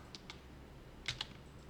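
A few quick keystrokes tap on a computer keyboard during a programming session, a shortcut combination pressed in a couple of close clicks, faint and alone against a quiet room.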